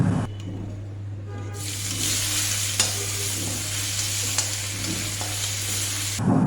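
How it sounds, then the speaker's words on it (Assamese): Chopped onion sizzles steadily in hot oil with panch phoron, bay leaves and dried red chillies while being stirred, with a few sharp clinks from the utensil over a constant low hum. "যিটো পিঁয়াজ এটা কুটি থৈছোঁ সেইখিনিও দি পিঁয়াজখিনি 1 মিনিটমান ভাজি লৈছোঁ"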